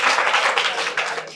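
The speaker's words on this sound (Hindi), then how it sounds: "सही जवाब दिया, उसके लिए ताली बजाएंगे।" Students in a NEET coaching classroom clapping for a classmate's correct answer, a dense, loud burst of rapid applause from many hands, close and continuous without talk.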